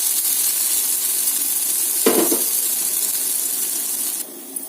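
Oil sizzles in a hot pan for egg bread snacks, a steady broadband hiss running throughout with a brief louder burst near the middle, then quieter toward the end, with no voices.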